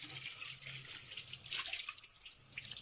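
A new clay pot is rinsed in plain water after being scrubbed with rice flour, giving a faint, steady wash of running and splashing water with small drips throughout, with no speech.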